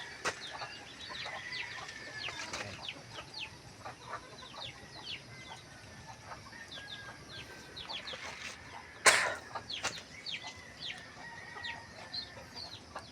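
Breeding chickens in a backyard pen give scattered clucks and soft calls, with one sharp louder squawk partway through, fairly near and without talk.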